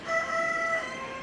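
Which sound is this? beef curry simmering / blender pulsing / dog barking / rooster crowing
rooster crowing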